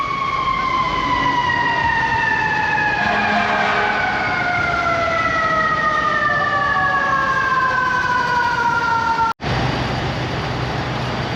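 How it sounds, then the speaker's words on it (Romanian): Fire truck siren on a New York street near Times Square, a loud wailing tone sliding steadily downward over continuous traffic rumble, close and sustained. "Cea mai moartă sirenă."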